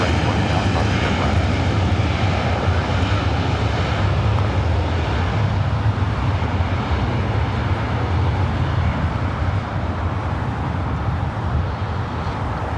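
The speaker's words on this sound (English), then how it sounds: "This flight heading to Sacramento, flight 4485 at a 737-700" A Boeing 737-700 airliner, flight 4485 to Sacramento, departs LAX with a loud, steady jet engine roar and deep rumble that holds strong before easing slightly toward the end.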